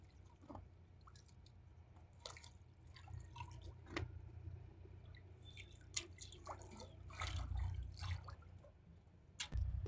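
A rice-ball pinda offering from a shraddha ancestral rite is immersed in river water, giving faint, close drips, squishy splashes and small watery movements with a slightly louder splash at the end.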